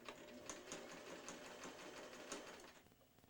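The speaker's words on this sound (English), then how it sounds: "Now I'm going to sew faster by pushing down further." An electric sewing machine runs under foot-pedal control, a quiet rapid needle chatter with rhythmic ticks speeding up as the pedal is pressed further.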